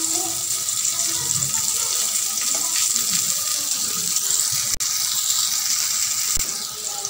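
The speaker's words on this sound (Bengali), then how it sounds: "এখন আমি পটলগুলো উল্টিয়ে দিব।" Pointed gourd (potol) pieces frying in oil in a pan as they are flipped, a loud steady hiss with a sharp clack partway through.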